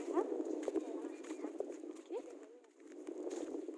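A cow walks along a village path in Nalbari, its hooves clopping in an uneven rhythm at close range while people talk nearby.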